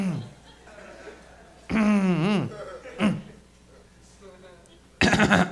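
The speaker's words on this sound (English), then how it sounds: "am coughing" Short, harsh throat bursts separated by quiet gaps: a drawn-out rasping cough, a smaller hack, and a sharp final burst, close to the listener.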